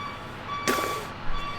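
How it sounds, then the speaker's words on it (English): A truck backing up, its reversing alarm sounding a steady tone in the background while a broadband burst of noise cuts in partway through. "Motherfucker backing up his truck."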